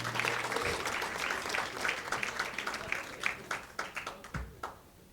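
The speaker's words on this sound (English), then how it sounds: "Let's give the women a round of applause" An audience at a medical equipment donation ceremony in Namibia gives a round of applause, a burst of clapping that starts loud and thins into scattered separate claps as it fades.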